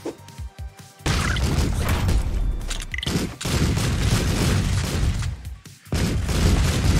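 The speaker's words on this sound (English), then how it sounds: "I should not have thrown that grenade" In the video game Streets of Rogue, a grenade goes off with a loud booming blast that holds as a dense roar for a couple of seconds, followed by further heavy bursts, with no talk.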